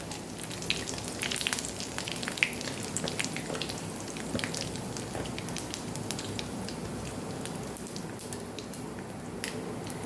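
Crackling, popping sizzle of mustard seeds, cumin and curry leaves in hot oil, sharp pops scattered irregularly over a soft continuous hiss, close by.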